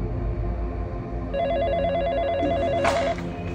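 A telephone ringtone sounds in a steady electronic warbling pattern for a couple of seconds as a call is placed to a police station, fairly clear over a quiet room background.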